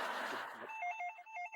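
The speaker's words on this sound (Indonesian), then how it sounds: "Angkat telepon." A telephone starts ringing with a steady electronic trill in repeated short bursts, coming in after a brief stretch of other sound and heard clearly on its own.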